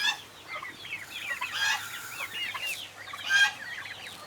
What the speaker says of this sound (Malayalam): ഇത് നാടൻ കോഴി ഇത് അത് നമ്മുടെ നാടൻ കോഴിയാണ്